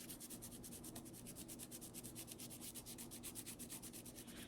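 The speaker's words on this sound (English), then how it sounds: "the cork colors in just fine with Sharpies" A Sharpie marker rubs back and forth over the end of a cork in quick, steady strokes, making a dry, scratchy rhythmic scraping up close with no voices.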